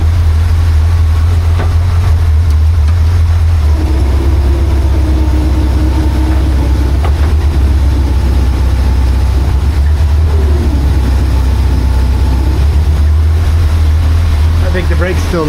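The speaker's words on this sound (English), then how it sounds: "We'll put her in gear and let it run for a bit in gear." A 1976 BMW 2002 engine runs steadily in gear with a loud, constant low rumble and mechanical whir throughout, continuing without a break.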